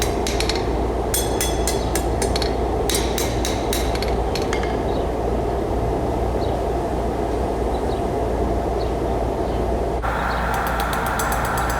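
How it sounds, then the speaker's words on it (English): A hammer forging spikes on the ends of stainless steel butter knives, with rapid bursts of sharp metallic blows over a loud, constant roar of background machinery and no talk. "It is time to forge the spikes on the end of the butter knives."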